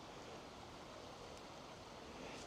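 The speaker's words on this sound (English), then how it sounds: "Can you hear the waterfall?" Steady, broadband rush of a waterfall flowing through snowy winter woods, a continuous even wash of water noise at moderate distance with no voices.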